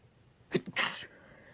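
A single sharp sneeze, preceded by a quick intake of breath, loud and close in an otherwise quiet room.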